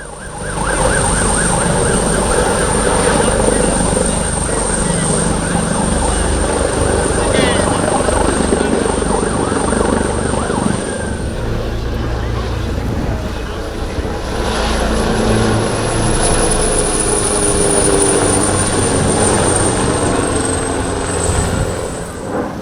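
An Italian rescue helicopter, call sign Duffy 01, flies a display at the Malta International Airshow 2025, its steady loud rotor and engine drone continuing throughout with a high whine and some crowd noise mixed in.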